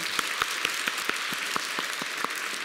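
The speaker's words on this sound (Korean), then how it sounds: "우리를 구원하신 예수님께 영광의 박수 올려드리겠습니다" A church congregation during a Sunday sermon claps in a continuous wash of applause, with a few louder individual claps standing out.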